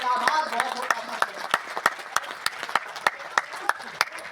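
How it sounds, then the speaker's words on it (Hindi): Audience applause at a poetry recital gathering in Prayagraj, steady clapping with sharp individual claps standing out, moderately close, some voices murmuring underneath. "जरा दोनों हाथों को हवा में उठाइए, जोरदार तालियां बजाइए"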